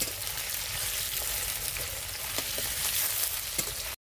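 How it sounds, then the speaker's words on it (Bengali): Pieces of paneer fry gently in oil with a constant, even sizzle and faint crackles, steady throughout with a quick scrape near the end. "হালকা করে একটু ভেজে নেবো"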